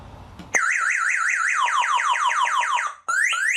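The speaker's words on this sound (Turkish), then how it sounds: "Alarm ondayken tekrar alarmı test edelim" A loud, cheap single-remote motorcycle MP3 alarm sounds up close, first a fast warbling tone, then repeating downward sweeps, cutting out briefly before starting again.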